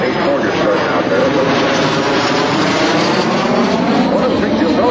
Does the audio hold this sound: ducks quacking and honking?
no